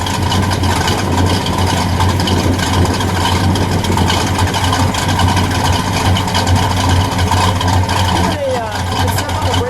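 A 1971 Oldsmobile 442 convertible's 455 V8 idling, heard from the rear at the exhaust, with a steady loud low rumble throughout and voices over it.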